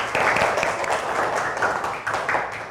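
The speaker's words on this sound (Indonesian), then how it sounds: "Tepuk tangan untuk Iik." Schoolchildren in a third-grade classroom clap for a classmate, a short burst of dense, lively hand claps lasting a few seconds.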